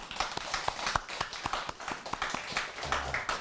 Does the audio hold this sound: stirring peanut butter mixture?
no